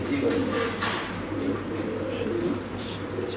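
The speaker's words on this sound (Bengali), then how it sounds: "হাতে আছে এখানে এক পিস কবুতর" Pigeons coo in soft, low repeated phrases at a pigeon seller's stall, with a steady background hum and murmuring voices close by.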